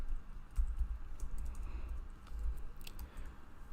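Quiet, quick keystrokes on a computer keyboard patter in a short irregular burst, close and soft, with no talking.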